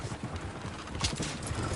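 Horses galloping in Red Dead Redemption 2, a fast, continuous drum of hoofbeats that stays steady and fairly close, with no speech over it.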